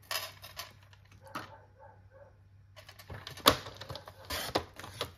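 Scrapbook paper for a Lemoncraft Linen Story album is trimmed to size: quiet, close clicks and scrapes, then a sharper slicing snap partway through, with short pauses between sounds and no talking.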